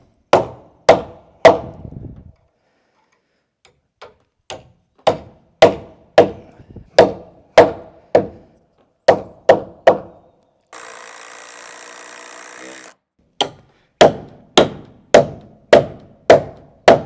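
Sharp, loud hammer blows drive nails into a wooden cabin floor frame in quick bursts of several hits, separated by short pauses and a brief stretch of hissing noise.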